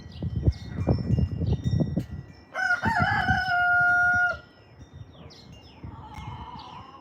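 Roosters crow loudly nearby on a pigeon-racing day, one long prominent crow followed by a fainter, more distant crow, with scattered clucks and other bird calls around it.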